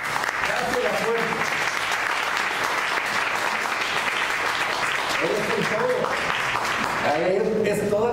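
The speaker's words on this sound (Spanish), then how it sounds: "Dan una ofrenda de palmas al Señor" A church congregation giving sustained, dense applause that fills the whole stretch, with a voice speaking over it toward the end.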